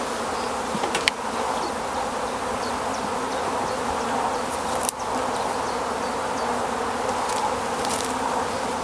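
Honey bees buzz in a steady, dense drone around a hive that has been split into two nucleus colonies and a parent colony, with a few sharp knocks of wooden boards and roofs being set in place.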